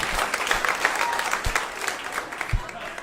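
Comedy club crowd clapping in a loose, uneven burst, scattered claps rising and falling over three seconds with a low murmur of the audience beneath.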